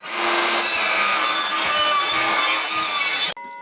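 An Evolution power saw cuts through plywood, a loud, steady, continuous rasping whine that holds for just over three seconds, then cuts off abruptly as the blade spins down.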